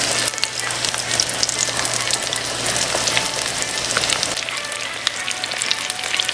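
Chicken sizzling and frying in oil in a pan on a slanted stove range for chicken parmesan, a steady dense crackle with scattered sharp pops, close and fairly loud, no talking.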